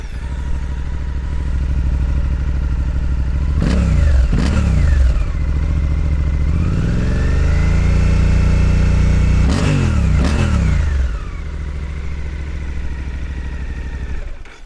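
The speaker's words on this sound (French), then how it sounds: "On va écouter le moteur." A Suzuki 800DE motorcycle engine idles loud and close with a deep, steady throb, blipped twice in quick revs, then swelling into a longer rise before two more sharp revs and settling back to idle.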